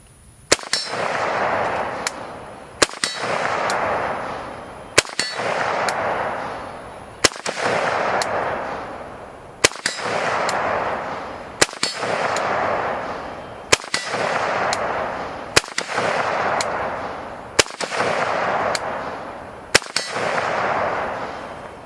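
An AK-47 rifle fires at a target, loud single shots at an even pace of roughly one every two to two and a half seconds, each sharp crack followed by a long, rolling echo of the range.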